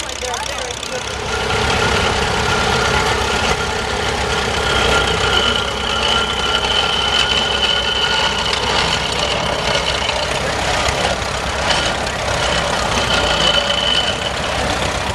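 An antique restored Case tractor engine idles with a steady, rough low chug throughout, while people talk nearby over it.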